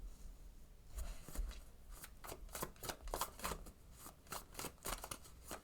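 Tarot cards are shuffled in quick riffling bursts, a soft rapid flutter repeating several times up close and fairly quiet.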